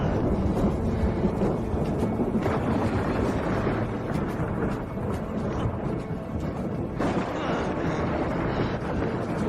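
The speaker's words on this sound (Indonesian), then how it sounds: "ada petir" Thunder rolls in a long, heavy rumble with wind-like noise, loud and continuous, with a sharper crack-like surge late on, and no talk over it.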